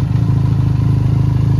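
A Benelli TRK 502X motorcycle engine runs with a steady, loud low rumble and even pulsing throb throughout, close by, with no voices.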